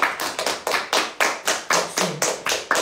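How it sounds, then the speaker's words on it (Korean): Hands clap close up during an informal Instagram live stream with NCT members, about ten crisp claps in a steady, even rhythm with no talk over them. "박수"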